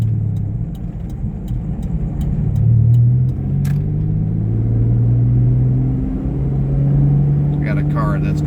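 A supercharged Mitsubishi 3000GT accelerates hard in second gear, its engine note rising and falling in a low rumbling drone close inside the car, with brief pauses between pulls and someone speaking near the end.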